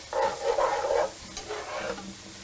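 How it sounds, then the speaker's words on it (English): A big saucepan holding chicken stock and heavy cream sizzles as it is stirred, with several close scraping strokes at the start, then a quieter, lingering simmer. "we're stirring, we're sauteing"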